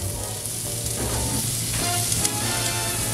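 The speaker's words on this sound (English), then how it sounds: "Now we'll baste this side." Ribs sizzle steadily in a hot pan while being basted, a continuous frying crackle with light stirring and scraping, close and fairly loud, with no talking.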